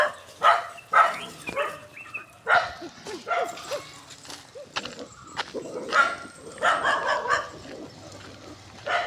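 A dog barks several times in irregular bursts, with some whimpering yips, while people talk nearby in Tulu.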